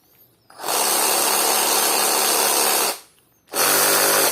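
A cordless drill whirs loudly at high speed, spinning steadily for about two seconds, stopping, then starting up again.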